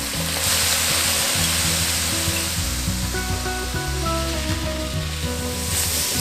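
Rice cakes stir-frying in a wok with soy sauce, sesame oil, pepper, five-spice and sugar, giving a steady loud sizzle over a low rumbling hum, with no voices.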